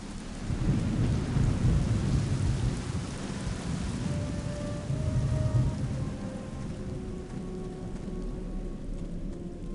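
A thunderstorm in the PC game Clive Barker's Undying: heavy rain hisses steadily while deep, rumbling thunder rolls loudly at first, then fades into the background as the downpour continues alone.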